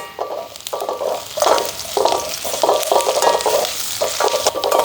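Pandan and curry leaves crackle and sizzle loudly with onions and garlic frying for a vadai curry, with steady frying hiss broken by rhythmic bursts of stirring throughout.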